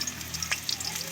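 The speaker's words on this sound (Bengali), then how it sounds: "আমি বেরেস্তা করার জন্য দিয়ে দেবো পেঁয়াজ" Chopped onions frying in hot oil for birista, with a steady soft sizzle and crackle close by and a brief sharper spit midway, no talk.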